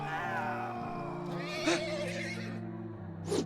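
A horse in a Game of Thrones video game lets out a long, loud whinny that wavers in pitch for a few seconds, with game music and ambience underneath and no speech.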